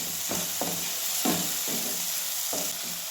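Spice masala roasting in hot oil for a bhindi (okra) dish, a steady soft sizzle broken by a few scraping stirs of a spoon in the pan, close by with no voices.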